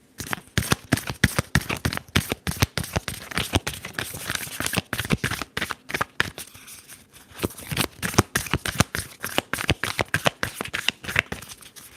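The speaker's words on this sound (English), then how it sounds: "Let's go ahead and shuffle and get these cards." Tarot cards are shuffled in a close, quiet ASMR setting: repeated crisp riffles and flicks in quick bursts, with a short pause partway through, and no voice.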